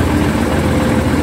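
Diesel engine of an ALS Patas intercity bus running smoothly at a steady idle, a continuous low rumble with faint vibration, close and even throughout with no talk.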